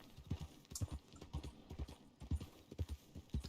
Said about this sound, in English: Oh, look, a horse.